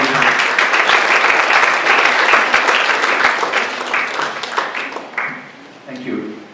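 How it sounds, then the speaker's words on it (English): An audience at a UX design workshop gives a round of applause, loud dense clapping that holds steady and then thins out toward the end, with a few voices speaking near the close. "Round of applause."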